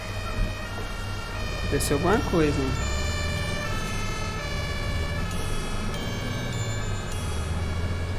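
Ambulance sirens in the bus-driving video game OMSI 2, wailing loudly and continuously with rising and falling tones over engine hum, while someone speaks briefly.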